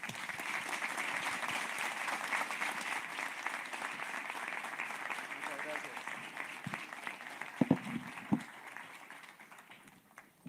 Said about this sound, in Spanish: Les pido por favor los despidamos con un aplauso